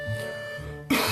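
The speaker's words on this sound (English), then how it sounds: "he loudly coughs into his hand" A man coughs loudly into his hand in the Katawa Shoujo visual novel, a single sharp burst near the end over a quiet background hum.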